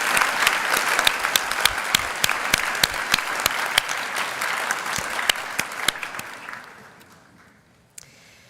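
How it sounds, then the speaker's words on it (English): Applause from a commencement audience at a preparatory school ceremony, a dense steady clapping with sharp individual claps standing out, sustained for several seconds before fading away, followed by a single stray clap near the end. "Can we give Doctor another round of applause"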